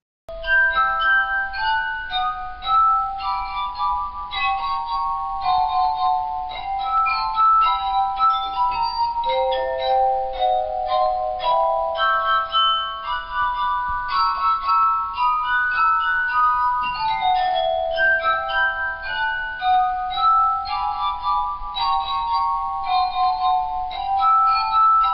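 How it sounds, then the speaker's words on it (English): A wet finger circling the rim of a wine glass partly filled with water draws sustained, pure singing tones. Several pitches glide and overlap in a continuous melodic ringing that stays loud and close throughout. "The friction from your finger moving around the rim of the wine glass will vibrate the glass itself"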